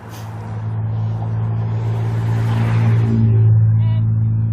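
A Nissan 300ZX Fairlady twin turbo passes by on a road, its steady low engine rumble swelling gradually louder toward the middle and end.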